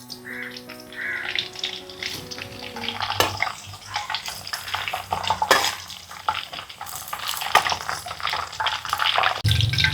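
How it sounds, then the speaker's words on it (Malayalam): Slit green chillies frying in hot oil with curry leaves for Chicken 65, a steady close crackle and hiss running throughout with occasional utensil clinks and stirring scrapes. "പച്ചമുളക് ഇങ്ങനെ കീറി വെച്ചതും കൂടി വറുക്കാം."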